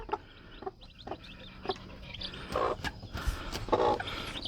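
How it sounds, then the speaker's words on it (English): A mother hen named Red clucks among her newly hatched baby chicks in a garden, a run of low, soft clucks and short calls at close range, with faint thin cheeps scattered through. "Red hatched her little baby chicks."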